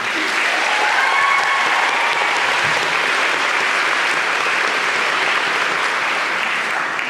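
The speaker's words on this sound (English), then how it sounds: "Let's have a big round of applause to congratulate the class of 2017." Sustained audience applause fills a graduation recognition ceremony for the class of 2017, media studies and creative writing graduates, steady and dense for the whole stretch with no talk over it.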